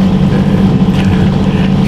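A sailboat motoring under engine power in a dead calm at sea off southern Italy, a steady droning hum mixed with wind noise on the microphone, with no talking.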